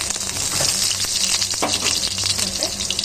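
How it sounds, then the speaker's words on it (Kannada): Onion and curry leaves sizzle hard in hot oil for a sambar tempering, a loud, close, continuous crackling fry with a few stirring scrapes and no talk. "ಈಗ ಸಾಂಬಾರ್ಗೆ ಒಗ್ಗರಣೆ ಹಾಕೋತಾ ಇದ್ದೀನಿ"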